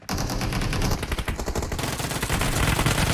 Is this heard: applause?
no